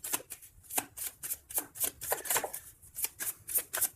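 Tarot cards being shuffled and drawn by hand during a reading: quick, papery riffling bursts that repeat in a steady rhythm, close and fairly quiet, with no talking.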